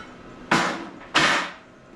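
Two sharp hammer blows ring out on a cut quarter-inch steel plate being straightened, spaced about half a second apart, each a loud metallic strike with a brief decaying ring.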